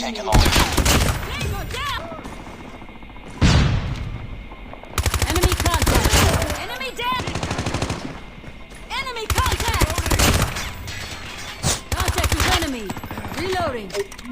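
Dense automatic gunfire from Call of Duty Mobile, with loud rapid bursts of shots repeating across the stretch in close, heavy volleys, while game voice and effects sound between them.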